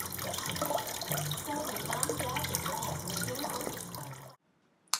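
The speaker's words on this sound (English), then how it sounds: "The coolant should drain out faster." Coolant draining from a Honda CBR600RR radiator, a steady liquid trickle and splash that runs continuously for about four seconds, then cuts off, followed by a near-silent pause and a brief closing knock.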